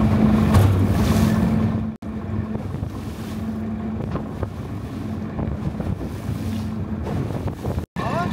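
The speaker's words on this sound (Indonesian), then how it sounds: "Hari ini ombaknya gede banget." A fishing boat rides big waves at sea while the net is hauled in, with constant wind buffeting and rushing water filling the scene and a low engine hum underneath.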